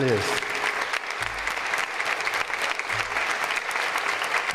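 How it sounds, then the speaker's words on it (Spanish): Sustained audience applause fills a hall at a jota festival during the Pilar fiestas, dense and steady throughout with a faint voice showing briefly at the start. "un aplauso también, por favor, para Javier y para la Junta Directiva"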